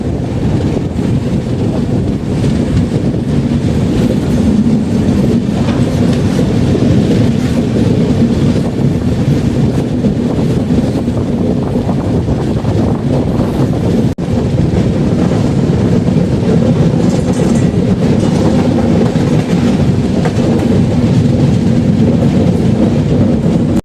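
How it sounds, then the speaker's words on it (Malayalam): Antyodaya Express rolling around a long curve into Kollam Junction, a steady loud rumble of wheels and carriages with wind buffeting the microphone throughout and no voices. "കൊല്ലം ജംഗ്ഷനിലേക്കുള്ള കണ്ട ട്രെയിൻ വളഞ്ഞു പോകുന്നത്."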